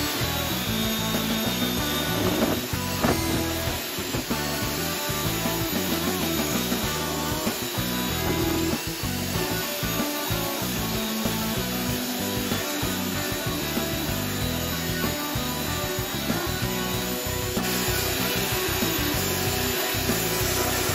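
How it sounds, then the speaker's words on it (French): Hand sanding of an old wooden bottle crate from 1996, a continuous rasping rub with steady back-and-forth strokes, close and fairly loud. "Allez, on ponce."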